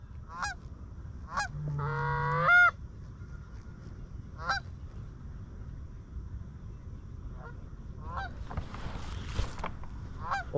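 Geese honking in repeated short calls from a distance over a field or marsh during a waterfowl hunt, with one longer close call partway through and faint background rustle, and no talking.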